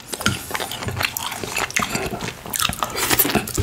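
Close-up eating of soba noodles with shrimp and green beans, giving moist bites, slurps and chewing in quick irregular bursts, loud and near with no talk.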